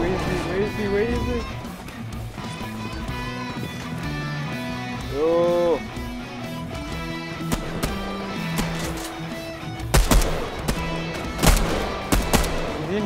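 Gunfire rings out in the Fortnite video game: bursts of revolver-type shots, some single and some in quick clusters, with a player speaking excitedly over game music and effects.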